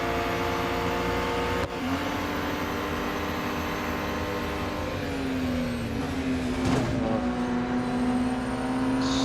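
A car engine in the racing game Real Racing 3 holds a steady high drone, with a sharp click early on and a rising rev note partway through, no talking.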